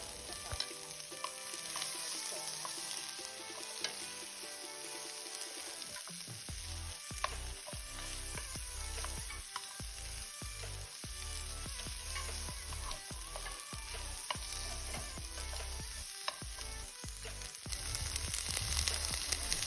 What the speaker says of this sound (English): Now we're just going to be adding our string beans and carrots. And I'm going to just be sauteing these for at least 15 minutes.